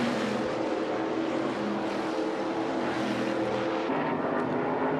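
NASCAR stock cars racing at the Calder Park Thunderdome oval during the 1991-92 Australian championship, giving a steady, loud, unbroken engine roar with no talk.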